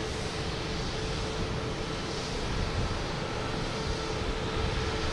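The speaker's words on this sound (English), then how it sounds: "now we have Hanan taking off" A Hainan Airlines Boeing 787 Dreamliner takes off from Boston Logan Airport with a dense, steady jet roar that fills the whole stretch at constant loudness, and nobody speaks.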